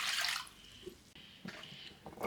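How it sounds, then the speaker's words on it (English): Water splashing and trickling as macadamia nuts are rinsed for homemade dairy-free milk, with a burst of pouring at the start, a quieter dripping middle and another splash near the end, close by and fairly soft. "So we are rinsing thoroughly."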